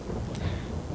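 Rain and thunder in Farming Simulator 22 on the Calmsden map, a short, dense low rumble with steady rainfall hiss beneath, loud and enveloping with no voices.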